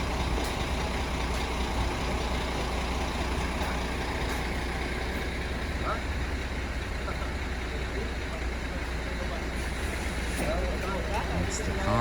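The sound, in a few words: concrete truck running at garage floor pour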